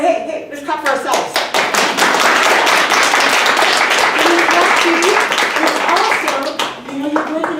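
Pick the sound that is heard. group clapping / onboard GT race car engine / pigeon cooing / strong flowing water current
group clapping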